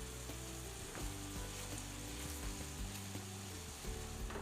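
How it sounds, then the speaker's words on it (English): Butter sizzles and crackles steadily in a pan with a creamy mushroom sauce for fried Italian polenta, giving a continuous close-up frying hiss with occasional soft clicks and stirring scrapes. "We need to add our couple tablespoons of butter here right into the pan."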